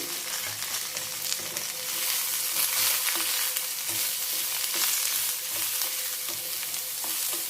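Snake gourd pieces fry over a low flame in a pan, a continuous crackling sizzle with occasional soft stirring knocks, close and unbroken.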